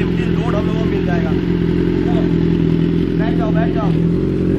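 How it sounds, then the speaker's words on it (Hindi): Superbike engine warming up, a steady loud mid-pitched idle drone running throughout with voices talking over it. "बाइक हो चुकी है, वार्म अप अभी चल रहे हैं"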